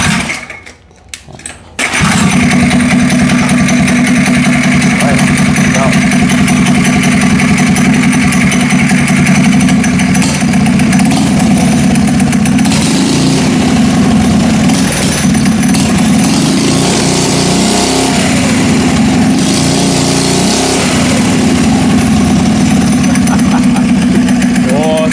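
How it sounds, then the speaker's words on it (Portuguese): A stationary engine fitted to a motorized skateboard starts with a brief burst, then runs steadily through its modified exhaust, a loud, continuous buzzing drone with slight shifts in pitch over about twenty-five seconds. "Vamos dar ligado para nós ver como é que ficou o som do escapamento agora."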